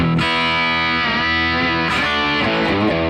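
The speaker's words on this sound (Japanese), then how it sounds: "せっかくなんで少しエコー的なリバーブをちょっとかけると" An electric guitar played through a Marshall SV20H amplifier rings out with distorted sustained chords and an echo-like reverb tail, loud and continuous.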